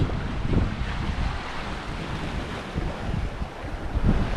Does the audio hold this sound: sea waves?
yes